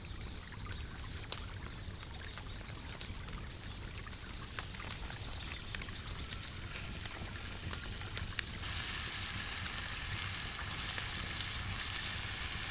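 Mushrooms frying in a pan just used for cauliflower steaks, a continuous crackling sizzle with scattered sharp pops, louder and brighter in the last few seconds, no talking.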